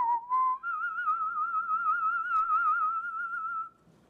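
A person whistles one long, sustained note with a slight wavering vibrato, clear and close, after a brief lower opening tone.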